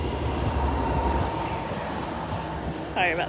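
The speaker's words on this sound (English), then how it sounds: "Sorry about the road noise." Steady rumbling road traffic noise beside Minter Creek Hatchery, a continuous low wash of passing vehicles with a brief squeal near the end.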